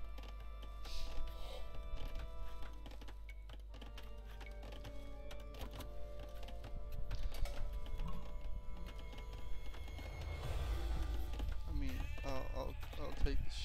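Sheep bleating in the strategy game Age of Empires 2, several short game bleats mixed among clicks and interface sounds, with a player talking over them.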